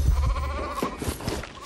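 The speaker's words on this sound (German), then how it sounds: "Also, wieso ist das Schaf verwirrt?" Sheep in the LEGO Fortnite video game bleat in a short, wavering call that sounds close and clear over game background sounds.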